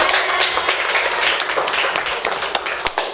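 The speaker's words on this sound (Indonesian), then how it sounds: "Kita beli aplaus dulu kelompok" A classroom audience applauds a student group in dense, continuous clapping that stays fairly loud and even throughout, with a few sharper individual claps near the end.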